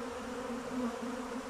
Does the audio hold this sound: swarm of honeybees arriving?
yes